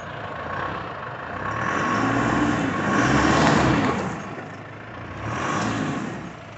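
A diesel Chevrolet S10 4x4 with the MWM 2.8 engine, stuck on slick ground, revs steadily in swelling and easing surges as a wheel spins, loud and close throughout with no talk.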